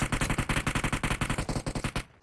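Rapid automatic gunfire from a shooter video game, a steady run of about twenty loud close shots in even rhythm before cutting off into a brief faint tail.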